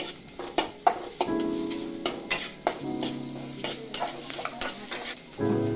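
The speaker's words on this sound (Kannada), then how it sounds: "ಕರಿಬೇವು ಈರುಳ್ಳಿ ಇದನ್ನೆಲ್ಲ ಹಾಕೊಂಡ್ಬಿಟ್ಟು ಸ್ವಲ್ಪ ಫ್ರೈ ಮಾಡಬೇಕು" Curry leaves and onion frying in oil for a Kannada greens palya, close crackling sizzle punctuated by repeated spatula scrapes and taps against the pan, no speech.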